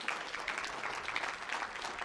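Faint, thin applause from a small crowd at an outdoor ribbon-cutting celebration for a Route 66 visitor center, distant and brief.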